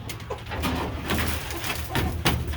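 Birmingham roller pigeons coo softly and repeatedly at close range while being fed, low throaty calls overlapping in an uneven rhythm with slight rustling in between.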